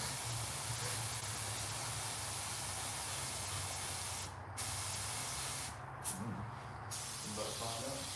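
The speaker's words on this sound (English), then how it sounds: "Oh, look at that. Spraying like a champ." A steady hiss of a spray nozzle runs continuously, briefly cutting out a few times before resuming, faint and even in tone.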